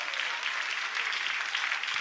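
A church congregation at a French-language worship service claps together in steady, even applause, a close, full wash of many hands with no pauses.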